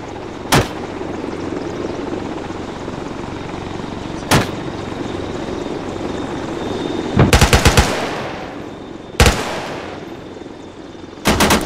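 An M2 heavy machine gun in the video game ArmA 3 fires on enemy helicopters in about five separate bursts, loud and close, the last few rattling longer, over a steady droning engine background.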